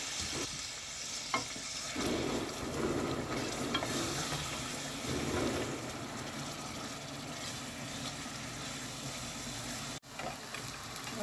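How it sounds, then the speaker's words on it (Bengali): An egg and lentil omelette seasoned with ginger-garlic paste, green chili, salt and turmeric fries in a pan, giving a steady, even sizzle with faint stirring and no talk. "ভাজা হয়ে গেছে অমলেট"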